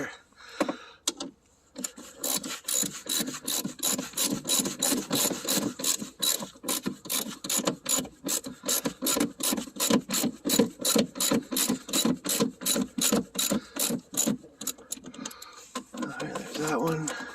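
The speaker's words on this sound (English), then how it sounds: "And now I'm gonna put these bolts on here, get her pulled up there a bit with my socket." A socket wrench ratchets steadily while tightening rear strut bolts on a Dodge Neon, a long run of evenly spaced clicking strokes at close range, with someone talking at times.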